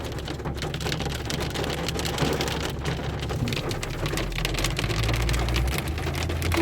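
Hail falling in a dense, steady roar of pattering impacts, loud and continuous with a low rumble underneath.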